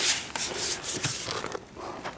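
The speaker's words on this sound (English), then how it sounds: "Hand sanding." Hand sanding a car's cowl close by: repeated abrasive rubbing strokes with a raspy, scratchy texture, steady and fairly quiet, no voices.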